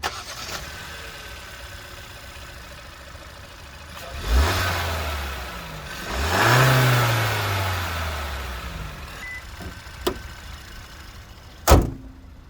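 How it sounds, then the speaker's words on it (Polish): Hyundai Tucson N Line 1.6 T-GDI four-cylinder petrol engine with a six-speed manual, revved twice with sweeping rises and falls over a steady idle, the exhaust faintly growling, followed by sharp clicks and a door-like thud near the end. "Posłuchajmy więc mojego silnika."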